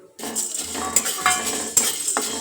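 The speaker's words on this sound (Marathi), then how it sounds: "मिरे आणि वेलची मी एकत्रच टाकले भाजायला" Whole black pepper and cardamom pods dry-roasting in a pan for an onion-garlic chilli masala, with a spoon scraping and clinking against the metal in irregular strokes, close and moderately loud, no talking.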